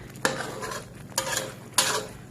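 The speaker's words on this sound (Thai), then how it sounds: "แล้วก็ผัดให้หัวกะทิกับ ตัวพริกแกงนะคะ เข้ากันนะคะ" Coconut cream being stirred with red curry paste in a wok over low heat for a Thai chicken and bamboo shoot curry, with three distinct scraping strokes of a utensil against the pan over a faint low sizzle, no voices.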